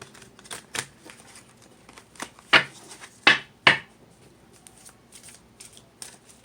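Soft tarot card shuffling with a series of sharp slaps and flicks, a few louder snaps clustered midway, close and unhurried, no voices.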